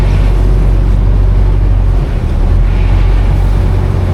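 A loud, constant low roar of a longtail speed boat motor on Bangkok floodwater, steady throughout with heavy wind-like rumble.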